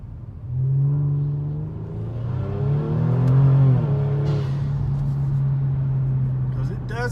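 A Kia Stinger engine rumbles, then its pitch rises as the car accelerates hard, giving a loud, close, sustained drone that swells and settles into a steady pull.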